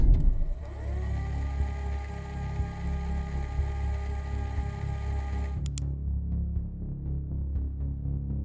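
A truck starts up and pulls away down the road at night, its engine a steady mid-pitched throb with a brief rev near the start, then a low rumble that carries on after a short high click.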